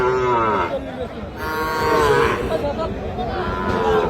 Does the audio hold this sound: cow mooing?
yes